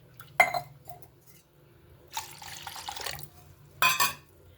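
Water is poured from a cup into a bowl in three short bursts for Karachi halwa batter. Each splash is brief and close, with light clinks between the pours.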